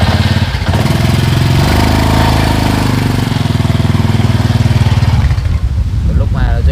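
A motorcycle engine drones steadily and loudly at close range, with people talking over it.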